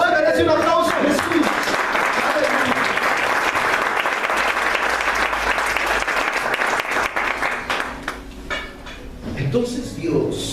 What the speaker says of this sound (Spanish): Háganle un aplauso a Jesús.